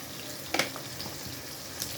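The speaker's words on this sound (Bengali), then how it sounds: "এবার আমি টমেটো সসটা দিয়ে দেবো।" Tomato sauce added to soya bean chilli in a hot pan, a quiet sizzle broken by a short wet splat and a few soft stirring scrapes.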